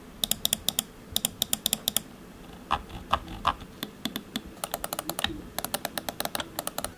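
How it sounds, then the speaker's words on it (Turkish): Rapid bursts of crisp SteelSeries Rival 105 gaming mouse-button clicks from Omron switches, close up and quiet, coming in quick runs with short pauses between them. "Tıklama sesi oldukça belirgin ve tok."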